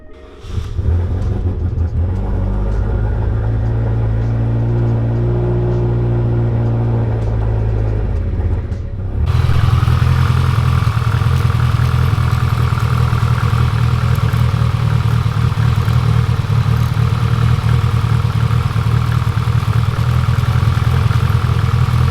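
Modified car engine, part of a 600+ whp build, idling steadily while the fuel pressure regulator is tuned; the idle jumps noticeably louder and rougher about halfway through and then holds, close and alone.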